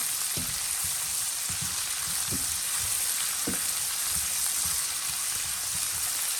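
Tomatoes sizzle steadily in a hot pan for a Tuscan butter shrimp pasta, a dense continuous frying hiss with occasional soft pops and stirring knocks, close and alone.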